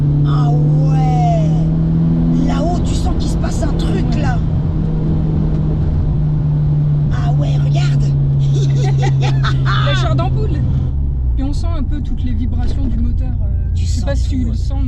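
A BMW M3 E30 engine revving while the car is driven, a loud steady drone that holds its pitch then drops away, with people talking in French inside the cabin throughout.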